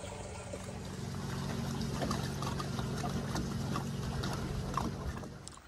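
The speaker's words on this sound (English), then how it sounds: "now I'm about to drain off these other jugs" Water draining out of jugs beside a rainwater catchment system, a steady close pouring and trickling that swells after a quiet start and runs on evenly, with no voices.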